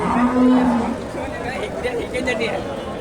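A large nine-month-old Friesian cow lows loudly and close by at a busy cattle market in northern Bengal, one long moo rising over steady crowd babble and nearby chatter.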